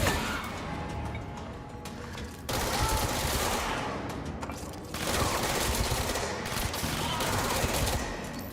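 Dense, sustained gunfire from the video game Control, continuous rattling bursts in three long volleys separated by brief shifts, loud and close with no talk.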